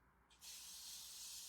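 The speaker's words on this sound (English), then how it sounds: "So now we're going to spray it with water." A spray bottle mists water onto a craft board, giving a short soft hiss that starts abruptly and holds steady, close and quiet, with no voices.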